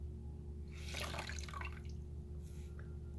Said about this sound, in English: And I squeeze the sponge.